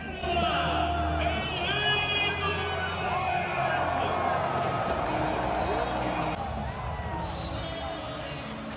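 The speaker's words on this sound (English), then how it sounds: "The crowd was great, the section was great, everybody was singing and just having a great time." A large stadium crowd at a World Cup match cheers and sings as the two teams reveal their country flags, a dense, continuous roar with whoops rising over it, fairly close and loud throughout.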